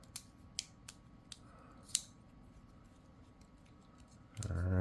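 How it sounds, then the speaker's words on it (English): Faint, sparse metallic clicks and ticks as the pivot of a Civivi ExOne folding knife is fitted back together, a handful of small isolated taps in a quiet room, ending in a louder rustle. "You got to be careful when you put a knife back together"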